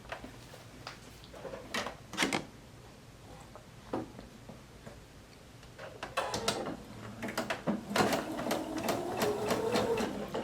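A sewing machine stitches pieced quilt strips together, its needle clattering in short bursts at first, then running in a longer, steadier, louder whirring stretch toward the end.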